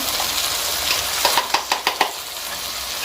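Biryani base sizzles and fries in a pan under a steady hiss, with a quick run of five or six stirring scrapes and knocks from a spoon against the metal partway through.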